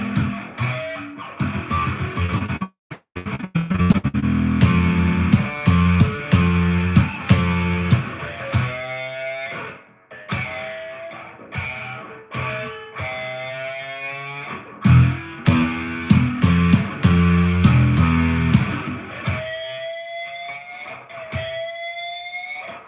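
Bass guitar played through heavy distortion on a Line 6 Helix, a loud, buzzing, harmonically dense tone with rapid choppy notes and brief gaps, alone with no talking.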